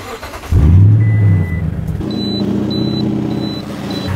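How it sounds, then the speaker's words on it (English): A second-generation Toyota Tundra pickup's engine cranks briefly and catches with a loud low rumble, then settles into a steady close idle with faint intermittent beeps. "Let me start the truck."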